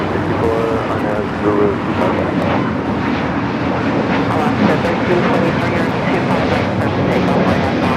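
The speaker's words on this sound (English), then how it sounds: "This is Spirit Airlines 1542 taking off to New Orleans on the A320neo." A Spirit Airlines A320neo takes off at LAX, its engines a broad steady roar heard from a distance, with people chatting over it throughout.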